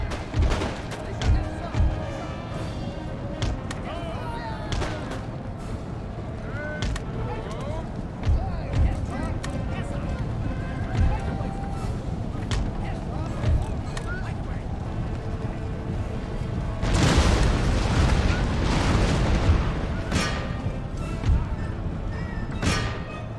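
Cannon and artillery fire in the Empire: Total War strategy game, repeated booming shots and thuds amid a busy battle din, heavier barrage near the end, with someone talking over it.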